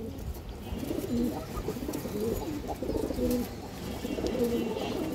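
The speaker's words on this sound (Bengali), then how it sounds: "এই দেখেন দর্শক মাশাআল্লাহ খুব সুন্দর কবুতর" Pigeons cooing close by in a loft, with repeated low, throaty coo phrases over a soft, continuous background murmur of more birds.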